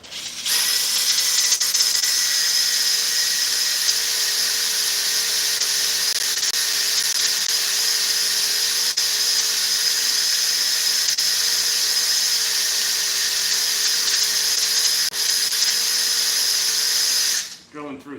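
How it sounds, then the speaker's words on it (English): A drill bores through 3/8-inch steel with a 5/16-inch bit and cutting fluid in a truck build shop: a steady, loud, unbroken whirring grind with a high whine that holds for about seventeen seconds before stopping abruptly. "Drilling through 3/8 with a 5/16 drill bit, and yes, I have cutting fluid."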